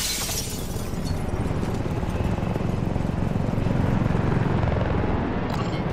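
A helicopter in the video game Call of Duty Modern Warfare 3 gives a loud, continuous rotor thump and turbine roar that stays steady and close throughout, with no talking.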